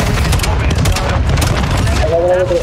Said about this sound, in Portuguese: Tamo atirando em mim